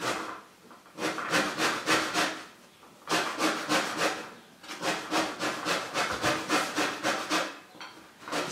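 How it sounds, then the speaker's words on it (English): Orange zest rasped on a cheese grater for a chocolate orange sauce: quick, close scraping strokes in bursts of rapid back-and-forth rubbing, with brief pauses between runs and no talking. "I don't have one, so I'm just going to use this cheese grater."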